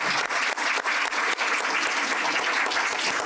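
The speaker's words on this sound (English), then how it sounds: "I would ask you to join me in giving them a warm round of applause for their" An audience applauds panelists at the close of a sustainable investment session, a steady wash of many hands clapping that fills the whole stretch at even loudness.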